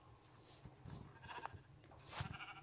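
Sheep bleating in Minecraft: a few short, low blocky animal calls spread across the moment, moderately close, with faint game ambience between them.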